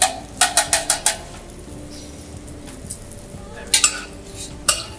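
Scrambled eggs with yoghurt, basil and white pepper are stirred in a pan, a quick run of five sharp utensil scrapes followed by a few later scrapes over a soft steady sizzle, close and fairly quiet.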